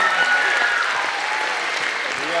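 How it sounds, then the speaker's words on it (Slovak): An audience at the AnimeShow & GameExpo 2011 cosplay show claps in a dense, steady burst of applause that fills the space at a loud level. "tak potlesk."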